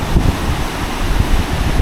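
Gusty wind buffets the microphone over choppy sea waves breaking at a beach on Koh Rong Sanloem, loud and close, with no voices.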